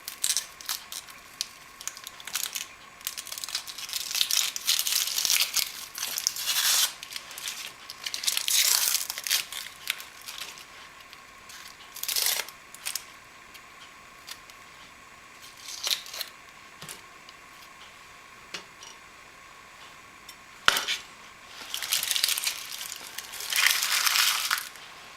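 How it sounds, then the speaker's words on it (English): Outer layer peeled off an onion by hand, heard up close as dry crackling, crinkling and tearing in irregular bursts with short quiet gaps, no talking. "You shall peel the onion, or at least, well, peel the onion. Remove the outer layer, like so."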